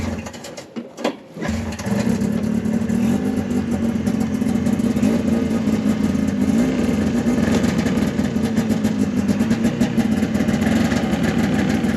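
A Trailfire 340 engine cranks briefly, then catches and settles into a steady, mid-pitched idle that runs on unbroken, close and fairly loud, with no talk over it.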